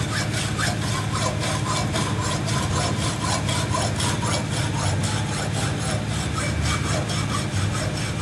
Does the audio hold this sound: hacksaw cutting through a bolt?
yes